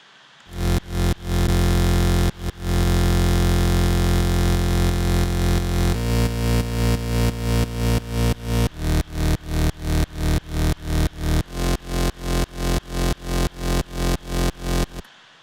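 An Ableton bass line pumps with autopan acting as sidechain. Loud, dense tones swell and duck in a fast, regular rhythm that tightens into quick evenly spaced pulses, with no voices.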